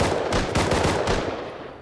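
Bursts of rapid gunfire from a video game shooter, loud and close, with several clustered volleys over about two seconds and no talking.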